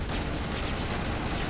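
Turrets in the Mass Effect video game fire a rapid, continuous burst of gunfire, a dense crackling barrage lasting the whole moment at moderate level.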